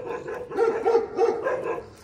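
Street dogs bark outdoors in India in a rhythmic run of about four loud, fairly close barks in quick succession.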